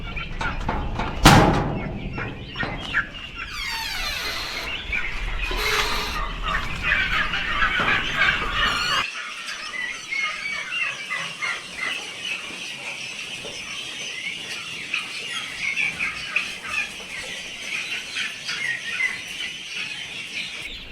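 Dense, continuous chorus of fowl calls from a flock, with a sharp louder cry near the start and steady chattering throughout.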